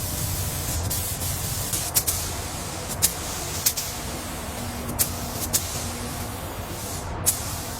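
Primer sprayed onto the sanded frame of a salvaged Komatsu D275A bulldozer, a loud steady hiss carrying on throughout with sharp intermittent bursts, with no talking.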